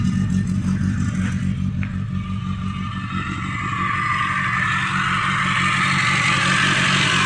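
A Peugeot 205 GR with its 1.4 litre XY7 engine runs steadily under an open bonnet, a loud, close, even mechanical drone with light clatter that holds constant the whole time.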